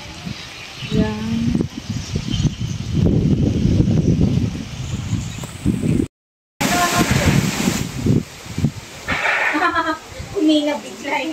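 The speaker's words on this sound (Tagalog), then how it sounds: "Lakas ang hangin." Strong wind from a Signal No. 1 typhoon blows through a rural village, rushing and gusting steadily in the open while people talk over it, with a brief dropout partway through.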